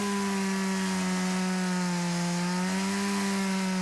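A Stihl MS-170 chainsaw cuts wood in an advert, its engine holding a steady buzzing drone that dips slightly in pitch midway, with no voices over it.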